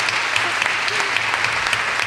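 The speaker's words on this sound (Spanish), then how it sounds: "De pie me pondría para darle un aplauso al Señor" A church congregation applauding during a Spanish-language sermon, steady crowd clapping with distinct individual claps standing out over a low hum.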